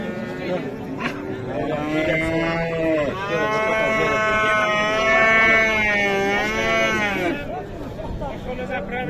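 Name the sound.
cattle at a livestock market, young bull calf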